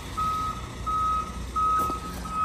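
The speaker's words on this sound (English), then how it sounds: "There goes our second truck." A departing work truck at a fencing job sounds its reverse alarm, a loud regular series of piercing beeps repeating about every second over low engine rumble.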